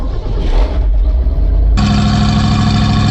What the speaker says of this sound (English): So, let's go ahead and get Martha fired up here.